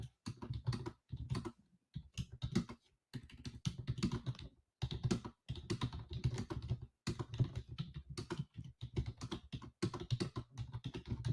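Typing on a computer keyboard, close and steady clatter of keystrokes in quick runs, broken by brief pauses, with no voices.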